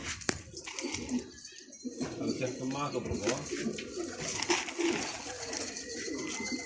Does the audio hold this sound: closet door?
no